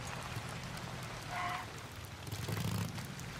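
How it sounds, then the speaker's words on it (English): Steady rain falling in the Days Gone video game, a broad even hiss of drops on surfaces with a soft low rumble, no talking. "And it just started raining"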